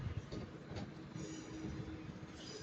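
A Class 323 electric train departing Manchester Piccadilly, wheels slapping and rumbling along the rail in a steady, loud rolling clatter with a faint squealing tone running through it, close by and continuous.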